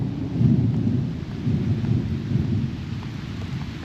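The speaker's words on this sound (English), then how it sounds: "The dogs and I are out in yet another thunderstorm." Rolling thunder rumbles low and loud through a thunderstorm while rain falls steadily on surfaces outdoors during a camping trip, with no voices.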